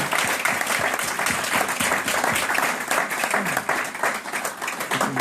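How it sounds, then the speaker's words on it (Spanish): Loud, sustained applause from a large church congregation, dense clapping with no voices standing out. "Hay que darle un fuerte aplauso"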